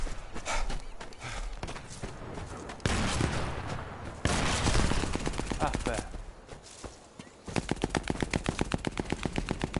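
Rapid gunfire bursts in the World War II shooter Sniper Elite 4, with trains of shots and heavier blasts layered over game noise and clip-clopping sounds, ending in a steady, evenly spaced run of loud automatic fire.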